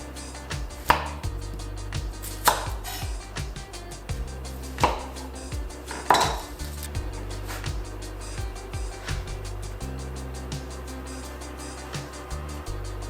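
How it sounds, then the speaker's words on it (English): A knife chops onion and garlic on a board, giving a run of sharp, close, irregular thuds and taps, several loud strikes early on, then quicker lighter chopping, with no talk. "We're gonna cut the onion, we're gonna cut the garlic"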